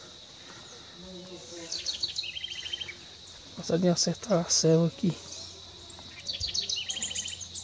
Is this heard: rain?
no